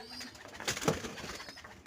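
Pigeons coo softly in a loft whose nest boxes hold eggs and newly hatched chicks; a few low, faint calls stand out against quiet background noise, with no talking.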